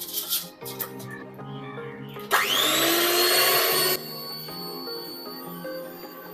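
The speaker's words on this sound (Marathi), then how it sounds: "हँड मिक्सरने आपण पुन्हा तीस सेकंदसाठी हे ब्लेंड करून घेणार आहोत" An electric hand mixer blends a mango ice cream mixture, whirring up sharply and running at a loud, steady pitch for under two seconds before cutting off, with quieter kitchen sounds around it.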